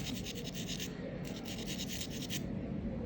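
A nail file scrapes pencil lead to loosen graphite powder, giving a steady, close, soft rasping rub with faint brighter strokes, heard alone.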